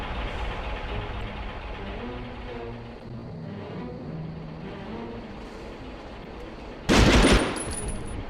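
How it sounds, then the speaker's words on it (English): A machine gun fires in a video game, one short, loud burst near the end that breaks over a low background rumble of vehicle engines. "That's another machine gun."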